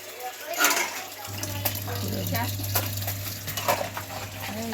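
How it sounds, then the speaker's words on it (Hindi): Tap water runs steadily into a container as drinking water is filled, a continuous wash of splashing with faint clinks, with someone talking over it in a home setting. "दिखा देती हूँ, नल चल रहे ना।"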